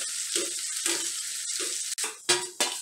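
Onion, ginger and garlic fry in a hot pan while preparing sambar, giving a steady crackling sizzle with a few louder stirring scrapes near the end; no one speaks.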